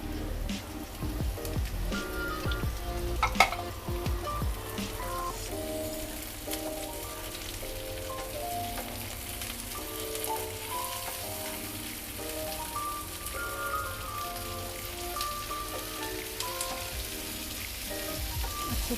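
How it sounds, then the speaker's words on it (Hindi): Stuffed okra sizzles in hot oil with a steady, rain-like crackle that continues throughout, accompanied by a melodic music bed. "अच्छे से चलाएंगे तो 1 मिनट फ्राई करेंगे इसमें ऑयल में।"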